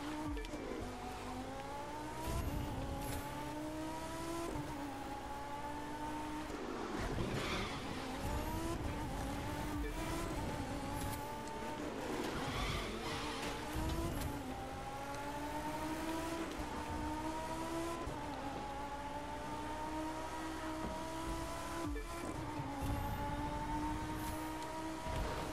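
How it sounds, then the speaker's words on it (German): An Audi race car in The Crew 2 holds a steady engine drone with rising and falling revs through gear changes, plus bursts of tire squeal on corners, continuous and moderately loud with no talk. "Der Audi lässt sich schon ein bisschen anders fahren als der Ferrari."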